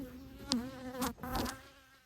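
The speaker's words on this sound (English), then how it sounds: "I call this my bee room." Bees buzz up close in an indoor bee room, a steady droning hum with a few louder passes as insects fly near.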